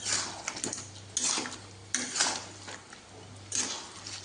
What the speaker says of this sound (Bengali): এবার আমি আলুগুলো দিয়ে দেবো আলুগুলো দিয়ে কষাতে থাকবো